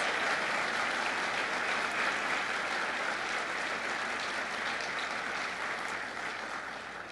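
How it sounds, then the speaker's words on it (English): Applause fills the hall at Emily Larson's mayoral inauguration in Duluth, Minnesota, a thick, sustained clapping from a large audience that holds steady and then tapers slightly toward the end. "So let's give her a round of applause."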